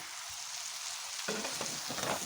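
A pointed gourd filling of potato, greens and chopped eggplant sizzles steadily in hot oil, and a spoon scrapes and stirs through it partway in, close and continuous, with no talk.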